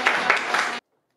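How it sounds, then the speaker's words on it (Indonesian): Students applauding in a high school classroom, a short burst of clapping under a second long that cuts off abruptly. "tepuk tangan dulu dong"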